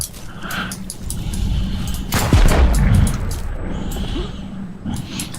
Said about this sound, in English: And I'm wasting all my fucking bullets on them.